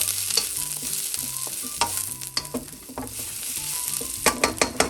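Leek frying in a pan with a steady crackling sizzle, broken by spoon scrapes and clacks as it is stirred, the stirring growing quicker and more rhythmic toward the end.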